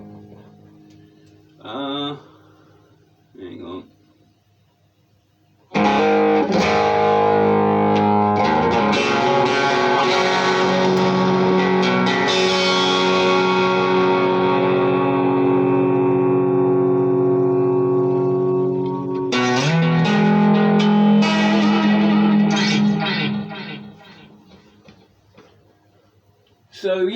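An ESP 400 series electric guitar with a clean, straight tone rings out loud and sustained for about fourteen seconds, strummed chords letting notes decay, with a couple of brief picked notes before it and a second burst of playing near the end.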